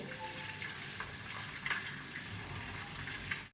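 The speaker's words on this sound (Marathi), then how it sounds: "गुळाचं पाणी शक्यतो गाळूनच घ्यायचं" Jaggery water pours through a strainer in a steady, soft trickle with a few small splashes, close by and fairly quiet.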